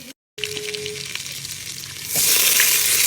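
Butter sizzling in a pan before mushrooms go in for a creamy mushroom soup, a soft steady crackle after a brief cut, then a louder bright hiss as more hits the hot pan.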